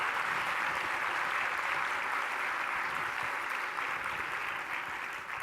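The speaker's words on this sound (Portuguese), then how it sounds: "todos devemos uma grande salva de palmas por uma vida rica e cheia" Steady, dense audience applause filling a plenary session hall at a medicines-for-all conference, loud and even throughout with no break, slightly softening at the very end.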